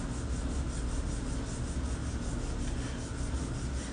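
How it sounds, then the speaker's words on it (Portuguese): A 220-grit file rasped over the side of a fingernail during a nail art session, a steady close scratchy rubbing with quick rhythmic back-and-forth strokes, quiet and continuous with no speech. "com a lixa 220 na minha lateral, na minha marcação que eu fiz. E deito um pouquinho a lixa sobre a unha"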